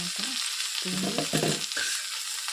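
Food fries in oil in a pan with a bright steady sizzle and bursts of stirring and scraping in the middle of the short stretch.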